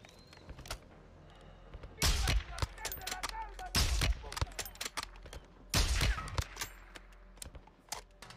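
Gunfire in Call of Duty Modern Warfare II, with loud bursts of rapid shots in several clusters and scattered single cracks between them. Voices are faintly audible underneath.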